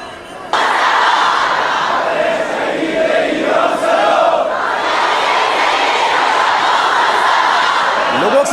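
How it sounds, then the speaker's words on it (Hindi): Dense, roaring noise from a huge crowd of mourners at Khamenei's funeral, loud and unbroken throughout, with shouted voices blending into the mass after a brief quieter opening. "लोगों की ये भारी भीड़ और शोर"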